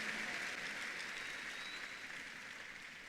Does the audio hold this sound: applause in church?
yes